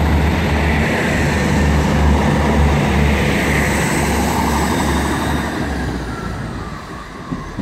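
An East Midlands passenger train departs Liverpool South Parkway, rumbling steadily past at close range, a low broadband roar with engine drone that eases slightly toward the end.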